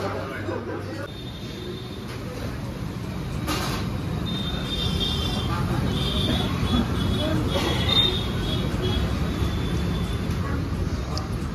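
A train rumbles steadily at close range throughout, with broadband rattling and rolling noise and faint higher squeals from the wheels.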